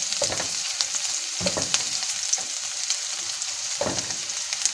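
Chopped onion frying lightly on a slow flame in a pan for aloo paratha, a steady soft sizzle broken by a few scraping stirs of a spatula, close and alone with no talk.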